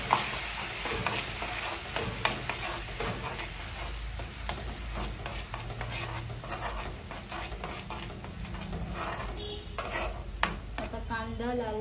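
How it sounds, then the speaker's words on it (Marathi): Onion puree fries in a pan while pav bhaji is being cooked, with a steady sizzle under repeated clinks and scrapes of a spoon stirring against the metal pan. "कांदा लालसर होईपर्यंत थोडंसं फ्राय करून घेऊया"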